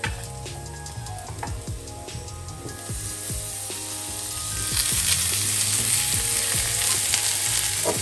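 Garlic and butter fry in a pan alongside chicken, giving a steady close sizzle with occasional stirring clicks that grows louder and hissier partway through. No one speaks.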